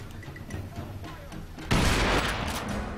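Automatic gunfire erupts suddenly in a Crysis firefight, a loud, dense burst of rapid shots that continues steadily after the onset.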